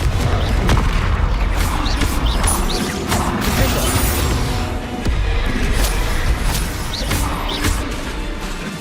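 Confringo fire spells burst in Hogwarts Legacy, a dense barrage of loud booms, crashes and whooshes rolling over a dramatic game soundtrack.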